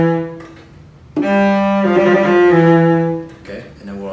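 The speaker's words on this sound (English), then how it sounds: "Now let's add the trill. So that sounds like this." A cello plays a basic trill on F from a Breval sonata, the rapid alternation sounding in a close, clear tone with short pauses between phrases.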